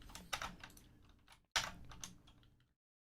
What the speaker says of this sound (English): I know all of you missed my very loud, thocky keyboard